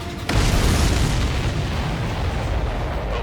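A heavy explosion in the combat flight game Ace Combat 7 hits with a sudden loud boom, followed by a sustained roaring rumble of debris and fire that fills the rest of the moment.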